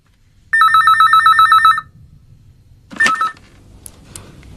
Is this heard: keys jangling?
no